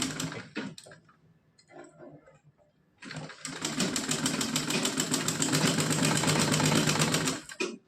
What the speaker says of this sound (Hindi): अब हम यहाँ पे इस तरह से मोड़कर इस पर सिलाई लगाऊंगी